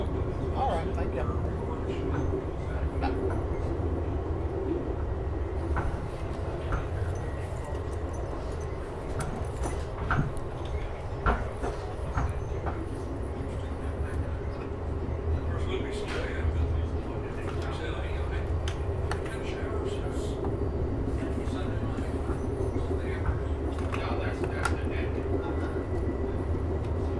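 A train rumbles past continuously, with clattering wheels and rattling cars over a low steady roar, lasting a long stretch.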